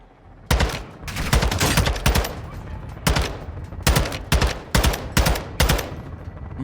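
Rapid bursts of video game gunfire, automatic rifle fire crackling in short volleys and repeated loud clusters of shots, close and sharp, with faint talk underneath in a small room firefight.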